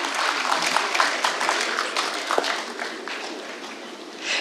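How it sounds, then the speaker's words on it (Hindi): A crowd at a poetry program gives warm applause to welcome a poet, dense clapping that swells and gradually thins out over several seconds. "जोरदार तालियों से एक बार उनका इस्तकबाल किया जाए।"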